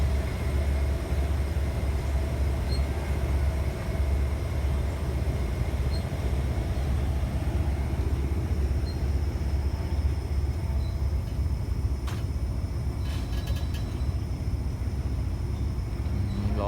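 A steady, heavy rumble fills the whole stretch as a long freight train hauled by a GEA diesel locomotive rolls past Salaya station without pause, with a brief metallic screech near the end.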